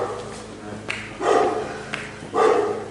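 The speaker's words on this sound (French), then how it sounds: "il y avait un chien qui aboyait tout le temps" A dog barks in an abandoned orphanage, with a few short yaps followed by two louder bursts of barking at a moderate distance. The barks echo over a faint, hollow background.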